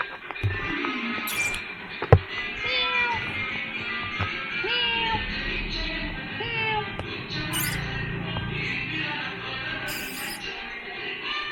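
Two cats near a roadside biryani restaurant give several drawn-out, wavering meows, spaced across the stretch. A busy ambient hum runs underneath, with a sharp knock and occasional short chirps.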